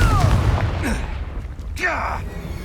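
A Confringo blast spell in the game Hogwarts Legacy, cast as booming fiery bursts with whooshing tails, two close, loud impacts over rumbling combat sound.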